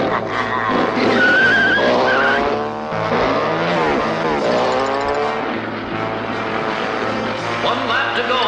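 Cartoon race cars skid and squeal through a race, a continuous loud roar of engines and screeching tires with a voice talking over the din throughout.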